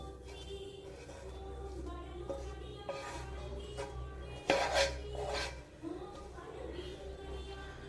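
A spoon scrapes and spreads a peanut barfi mixture into a tray, giving soft, intermittent rubbing and clinking sounds close by, with a person talking over them throughout.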